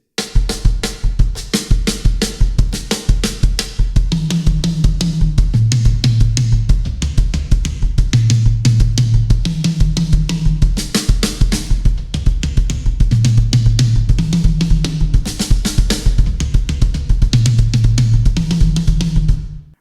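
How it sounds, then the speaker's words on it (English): Drum kit playing a fast phrase moved around the drums, with dense, loud hits across toms, snare and cymbals and a steady driving pulse throughout, no voices. "And then I will move it around the drums,"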